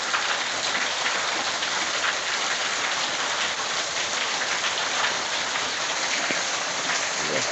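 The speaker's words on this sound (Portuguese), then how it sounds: "Chuva grossa, chuva forte," Heavy rain pours steadily and densely in northeastern Brazil, a continuous close hiss of drops drumming on surfaces with no pauses, no voices and no thunder.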